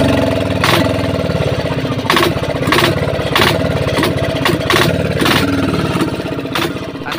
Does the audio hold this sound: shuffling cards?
no